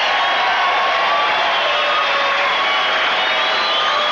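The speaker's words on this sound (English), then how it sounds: "The crowd roars as one" A packed boxing arena roars for Benny "the Jet" Urquidez in his bout against Yoshihisa Tagami, a dense, loud, unbroken wall of crowd noise holding steady throughout.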